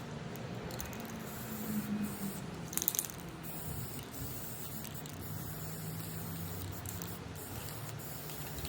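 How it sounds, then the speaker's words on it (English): Steady hissing spray from an aerosol can of mirror-effect spray paint, continuous and close, with a brief rattle partway through and no talking. "I'm going to use this mirror effect spray paint that you can get any craft store"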